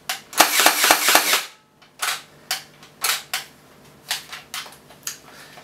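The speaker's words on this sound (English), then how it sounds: "So if you select semi, it shoots still full auto" An M4-style gel ball blaster fires in full-auto mode: a rapid, loud burst of snapping shots, then a pause, followed by several shorter separated bursts and single cracks close to the listener.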